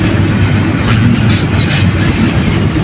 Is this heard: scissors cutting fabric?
no